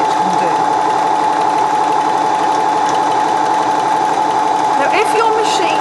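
A home sewing machine runs steadily through a stretch stitch on fabric, giving a loud, continuous mechanical whir with a rapid stitching rhythm that holds nearly unchanged throughout and rises slightly near the end.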